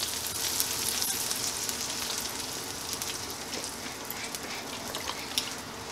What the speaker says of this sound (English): Since we're using a cast iron skillet, we're not using any wine, so we're going to just deglaze with some beef broth